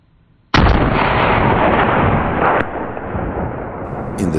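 A loud rifle shot rings out during a hunt for a Mid Caucasian tur, a sudden heavy blast followed by a long rolling echo and a second fainter impact report.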